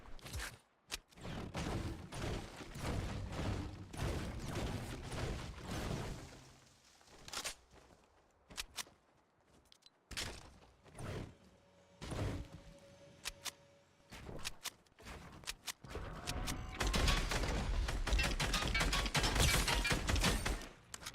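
Gunfire from a shooter video game played on an Elite controller, bursts of sharp shots and thuds spread across the span with brief pauses and a dense loud stretch near the end, no talk heard.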